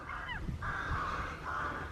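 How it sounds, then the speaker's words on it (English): Crows cawing on a golf course in West Cornwall, a few rasping calls rising over steady outdoor wind noise, moderately distant and without speech. "There's the crows."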